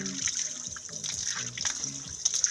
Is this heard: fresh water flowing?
yes